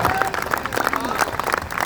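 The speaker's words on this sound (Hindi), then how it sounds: "तो फिर एक बार मेरे कहने पर जोरदार तालियां बजा दीजिए" Brief, loud clapping from an audience at a Hindi poetry recital, uneven bursts of hands with voices and cheering mixed in.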